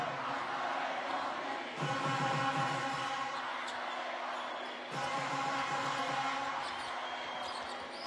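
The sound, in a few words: basketball crowd oohing and aahing in Tehran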